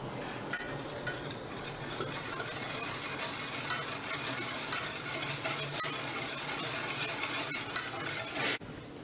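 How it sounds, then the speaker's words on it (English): A spoon stirs a cake mixture in a pot with a steady, soft scraping swirl and occasional sharp clinks against the side, a faint sizzle beneath. "Now we will stir this mixture."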